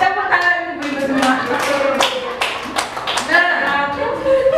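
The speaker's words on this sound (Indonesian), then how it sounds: "Tepuk tangan ibu-ibu semua" A group of women clap at a gathering, with scattered close claps mixed with lively voices, chatter and laughter throughout.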